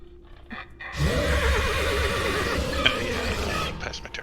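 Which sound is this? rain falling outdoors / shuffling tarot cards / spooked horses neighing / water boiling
spooked horses neighing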